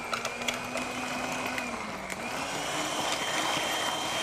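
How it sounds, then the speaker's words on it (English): Kitchen blender running on a low setting, a steady moderate whirring motor hum with a faint shifting pitch, heard alone without talk. "So let's just blend that for a second."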